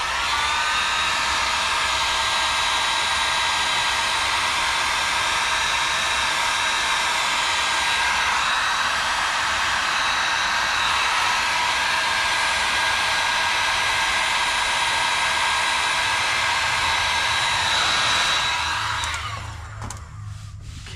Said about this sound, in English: I'm gonna go ahead and bring this down and heat shrink it.